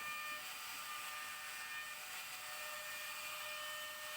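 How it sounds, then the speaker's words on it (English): A router riding on a router sled flattens end grain wood, producing a continuous high, hissing whine at steady, fairly loud level for the whole stretch, with no voices. "I'm using the router sled to flattening the end grain wood."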